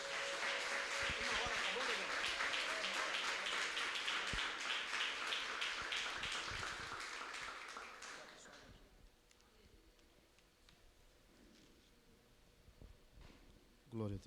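A church congregation applauding together, a dense, sustained wash of clapping that holds strong for several seconds and then fades away into quieter room sound, with voices around it.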